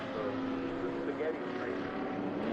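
A steady, loud engine drone with a rough harmonic buzz runs continuously, like vintage race cars revving nearby with no pauses, at WeatherTech Raceway.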